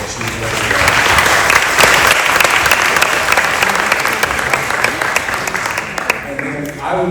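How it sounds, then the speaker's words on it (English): Loud, close applause from a school senior-night audience for the principal, a dense burst of many hands clapping that swells in and tapers toward the end, with voices cheering underneath. "please help me in giving a big round of applause for your wonderful principal, Dr. Griffin"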